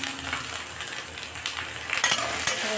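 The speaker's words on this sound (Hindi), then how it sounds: "और इसको भी थोड़ा सा डीप फ्राई कर देना है।" Capsicum deep frying in hot oil while making Manchurian, a steady close crackling sizzle with faint stirring clinks and a couple of louder pops near the end.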